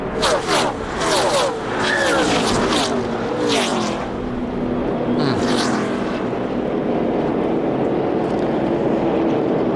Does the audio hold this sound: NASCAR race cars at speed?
yes